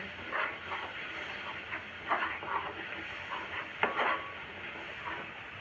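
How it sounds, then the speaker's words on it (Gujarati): Yogurt is sautéed and stirred in a pan for a green turmeric curry, with repeated scraping strokes and a soft sizzle heard close up. "ફરીથી આપણે દહીંને એક સરખું બધું સાંતળી લઈએ."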